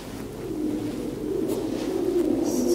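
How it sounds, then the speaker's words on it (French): Pigeons coo in a steady, close, throaty murmur inside an abandoned building explored on an urbex outing, with no talk over them. "C'est des pigeons."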